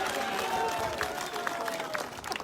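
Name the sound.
crowd applauding to welcome a politician at rally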